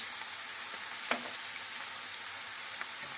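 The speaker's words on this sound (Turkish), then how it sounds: "Şimdi salçamın kokusu çıkıncaya kadar tekrar kavurmaya devam edeceğim." Tomato paste sautéing in a pan for a potato börek sauce gives a steady, close frying sizzle with a few soft stirring clicks and no talk.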